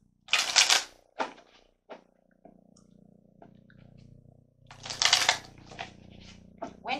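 Tarot cards are pulled from a deck and laid down, two bursts of crisp shuffling and flicking near the start and middle, then lighter card taps and slides with quiet gaps.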